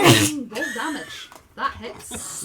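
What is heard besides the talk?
sneeze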